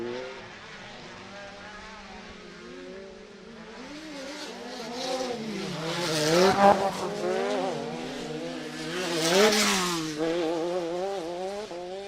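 Race cars in a sportsman event at a Minneapolis track roar past, engines rising and falling in pitch as two cars swell louder and fade in turn, with a faint tire squeal.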